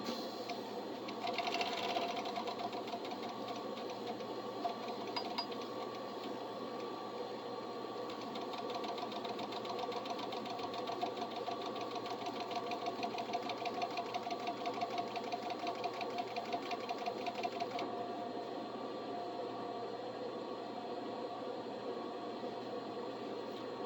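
A serger sewing machine runs steadily while chaining thread, a fast, even mechanical whirring and rapid needle clatter that continues unbroken for the whole stretch at moderate volume.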